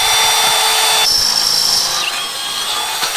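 A power drill boring a hole in wood while building a DIY skatepark, a loud steady whine that drops in pitch partway through as the bit bites in, running continuously up close.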